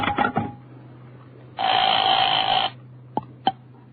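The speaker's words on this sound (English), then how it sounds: "I talked to Mr. Johnson on this phone" A telephone in a radio drama gives one steady electronic ring lasting about a second, followed by two sharp clicks like a receiver being handled, over a low hum.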